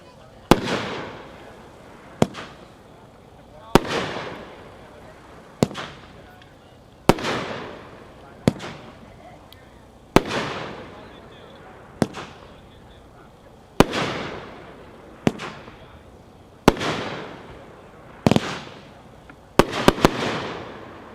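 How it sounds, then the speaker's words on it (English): Cannon Fire, a Tannerite firework cake packed 4-1 with 9 shots, goes off as a string of sharp loud booms spaced roughly evenly, each with a decaying rumble, the last two coming close together; voices are faintly present. "Number 2 is Cannon Fire by Tannerite, packed 4-1, 9 shots."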